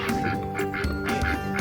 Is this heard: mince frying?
no